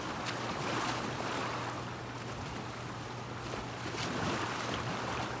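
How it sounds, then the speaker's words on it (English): Water ambience in the video game The Last of Us Part II: a steady wash of waves and lapping water with soft wind, moderately loud and continuous, with no talk over it. "Good sound effects on the water, too, by the way."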